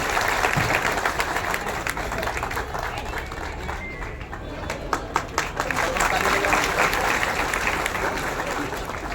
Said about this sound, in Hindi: एक बार सब लोग ताली बजा करके स्वागत करेंगे तिरुपति बालाजी का चौलोड़ा।